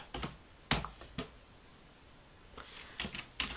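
Keys clatter on a computer keyboard while typing a chat message, close and quiet, in short irregular bursts separated by pauses.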